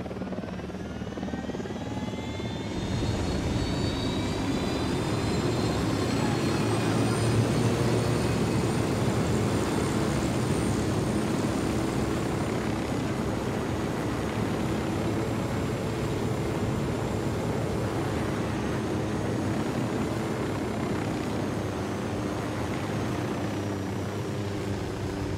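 Helicopter in the video game Ghost Recon Wildlands, a loud continuous rotor thump and engine drone that stays steady and close for the full twenty-five seconds, with no talking.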